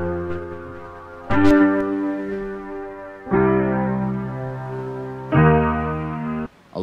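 Piano chords run through RC-20 Retro Color with wobble and heavy distortion, struck in three loud sustained blocks with brief dips between, sounding warbly, smeared and saturated, with no voices.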